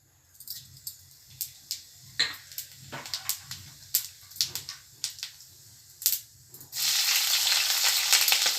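Cumin seeds dropped into hot oil in a kadai crackle in a series of sharp, close pops and spits, then burst into a loud, dense continuous sizzle for the last couple of seconds.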